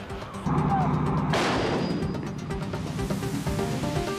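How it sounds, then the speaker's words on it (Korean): A K9 self-propelled howitzer firing in a test, a loud sustained blast and roar that decays into rumble, with a nearby engine-like drone and faint voices underneath. "채 성해가 녹지 않은 상황이었지만 K9 자주포의 사격은 정상적으로 작동됐고"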